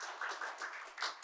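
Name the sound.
audience applause welcoming a speaker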